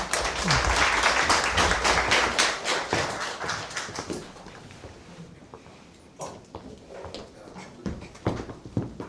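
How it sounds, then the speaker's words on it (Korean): Audience applause at an academic seminar in a hall, welcoming a university professor to present; dense clapping for about four seconds, then fading to scattered claps and quiet room noise. "박수로 맞아 주시기 바랍니다"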